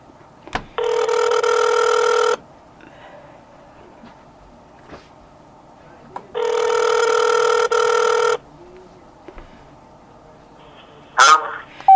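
A telephone ringback tone sounds while a call is being placed, two long loud buzzing rings separated by a pause, with faint clicks and handling noise between and after them.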